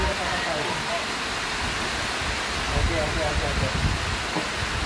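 Steady heavy rain pours down at a resort by the Bakun hydro dam, a dense, even hiss that fills the whole clip, with a brief spoken word partly masked by it.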